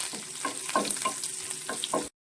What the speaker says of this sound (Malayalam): നമ്മളതിലേക്ക് എടുത്തു വെച്ചിരിക്കുന്ന ഉണക്കമുളക് പിന്നെ നമ്മുടെ കറിവേപ്പില ഇതെല്ലാം ചേർത്ത് നന്നായിട്ടൊന്ന് സോട്ട് ചെയ്തെടുക്കുക